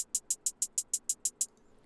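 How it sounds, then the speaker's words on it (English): Crisp, bright hi-hat ticks in a simple two-step pattern, a steady, even run of about ten hits, quick and unaccented, then stopping abruptly. "Really simple 2-step hi-hat pattern."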